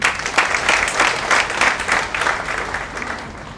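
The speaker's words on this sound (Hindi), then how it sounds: "तो इसके लिए भी तालियां होनी चाहिए" An audience claps at a gathering to honour officials who received pictures of Lord Buddha. Loud, sustained applause with no speech over it, holding steady and easing slightly at the close.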